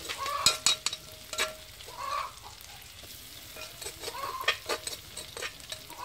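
Pounded chili and garlic sizzle in hot oil over a charcoal stove right after fried eggs, with a steady crackle broken by sharp clattering stirs and scrapes, and roosters faintly audible in the background.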